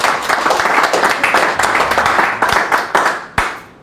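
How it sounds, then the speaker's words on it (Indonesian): A church congregation claps together in quick, bright bursts with some scattered cheering, the applause close and loud before it cuts off. "Berikan sorak-sorai buat Tuhan yang dasar."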